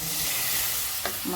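Garlic sizzles and fries in a pan while being stirred for a fish curry, a continuous close hiss with a brief scrape of the spoon near the end.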